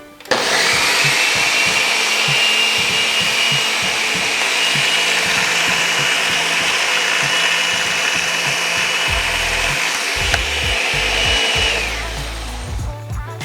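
An electric mixer runs steadily on low speed through shortbread cookie dough, a loud continuous whirring drone with a faint rubbing churn, holding for over ten seconds before easing off near the end.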